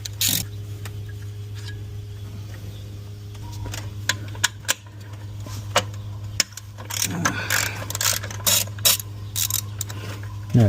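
A ratchet loosens 12 mm valve cover bolts on an Infiniti FX37, giving bursts of rapid clicking and clanks from nearby metal parts over a steady low hum, with some background voice.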